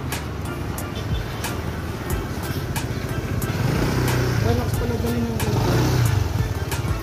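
A motorcycle engine hums and revs steadily while riding, with wind rush and rhythmic ticking; someone speaks briefly over the engine noise.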